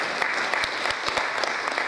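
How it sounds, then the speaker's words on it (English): Steady, dense applause from a conference audience at an international investment conference fills the room without pause, honouring Mr. Ernest. "I thought you'd encourage him with a round of applause"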